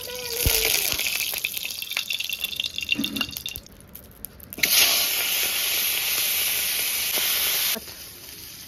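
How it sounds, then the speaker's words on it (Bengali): Hilsa fish head fries in hot oil in a wok, a steady hiss that swells into a loud, continuous sizzle partway through before cutting off near the end. "কড়াইতে তেল দিয়ে দেবো ইলিশ মাছের মাথা ভাজার জন্য।"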